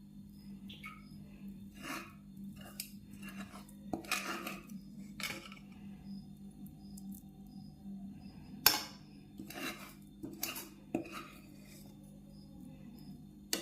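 Coconut is moved onto a plate in a home kitchen, with scattered metallic clinks and scrapes of a utensil against dishes, sharp and close, separated by quiet pauses.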